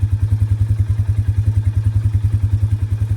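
A four-wheeler ATV engine putters close by on a wet, wooded trail. It gives a fast, even run of loud low thumps that stays steady throughout, with no talking.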